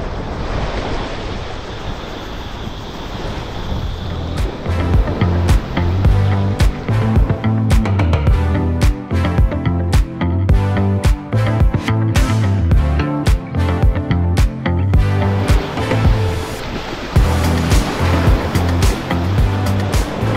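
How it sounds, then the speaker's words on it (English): A tour boat runs across the sea off Phuket, Thailand, with waves slapping and crashing against the hull in loud, irregular bursts over engine rumble and buffeting wind. "we are continuing the boat ride on to the next"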